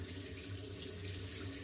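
Tap water runs steadily while a LumiSpa facial cleansing device is rinsed under it at a sink, a soft, continuous splashing rush heard alone at low level.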